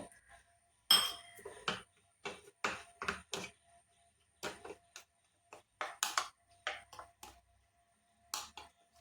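A spoon clinks and scrapes in a bowl while facial pack ingredients are mixed with milk, irregular sharp taps and rattles in short bursts separated by quiet gaps.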